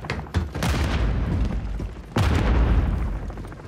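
Grenade blasts in Call of Duty MW3 Team Deathmatch on the Rio map, two heavy booming explosions a couple of seconds apart, each with a sharp onset and a rumbling low tail amid game noise.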